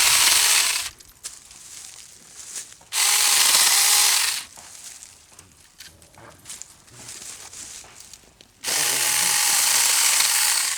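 Very small chainsaw cutting off a tree limb, three loud bursts of high buzzing motor separated by quieter idling and crackling wood, close and alone.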